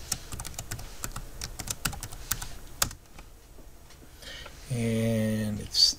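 Typing a name and password on a computer keyboard: quick, irregular clicking keystrokes up close that pause briefly, followed by a short burst of other room sound.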